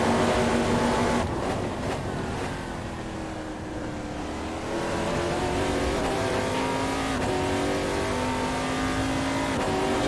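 Race car in a racing video game on Sveg Raceway, engine revving loudly and continuously with rising and falling pitch through gear changes, briefly easing off before accelerating hard again, alone without talk.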